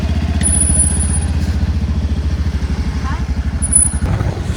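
A scooter engine idles and runs steadily with a low, rhythmic chugging throughout, loud and close, with a brief high whine near the start and end.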